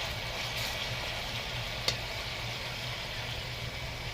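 Pork belly deep-fries in hot oil until golden, making a steady close hiss with a low rumble beneath it and one brief click partway through; no one speaks.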